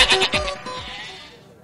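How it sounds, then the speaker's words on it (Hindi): A goat bleats loudly and close at a busy Qurbani livestock market, Shahpur Mandi in Lahore: one quavering, wavering call that trails off within about a second. "ये जी एक और बकरा हमारे पास लेकर आ रहे हैं, बड़ा ही खूबसूरत बकरा है ये"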